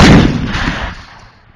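Militia artillery piece firing near Luhansk, a single loud, close blast with a sharp crack that rolls into a decaying rumble over about a second and a half.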